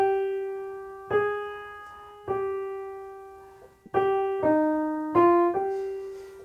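Piano with both hands playing a melody over an inner voice: a few spaced, struck notes that ring and decay slowly, then a quicker stepwise phrase near the end, close and solo with no talk.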